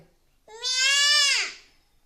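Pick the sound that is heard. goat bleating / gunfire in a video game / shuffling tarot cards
goat bleating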